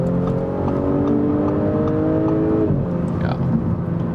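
Audi S4 V6 sedan engine accelerating in S mode, a steady loud drone rising in pitch through the gears, with one shift near the end and no voices over it.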